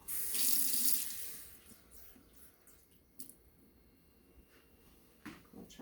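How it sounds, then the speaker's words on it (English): Water from a kitchen tap runs into a cup for brownie mix, a brief loud gush at the start that quickly fades, followed by a few soft clinks and handling sounds. "So we'll get our 1/3 cup of water."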